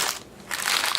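A chocolate and Rice Krispies mixture is pressed down into a baking sheet, giving a brief, close crunching crackle in two quick pushes.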